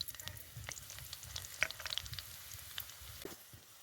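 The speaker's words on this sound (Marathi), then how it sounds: "आता तेल गरम झालंय आता हे लसूण आणि खोबरं कुठलेलं आपण त्यामध्ये टाकून घेऊ" Garlic and coconut fry in hot oil for a spicy besan vadi curry, a soft, close sizzle with scattered crackles and pops, fairly quiet and steady.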